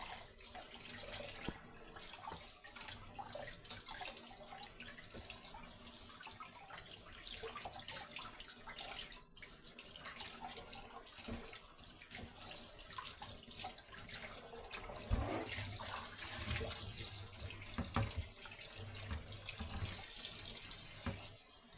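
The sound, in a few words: water running from a kitchen tap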